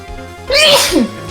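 A person sneezes once, loud and close, a quick sharp burst after a short intake of breath, with a quiet room around it.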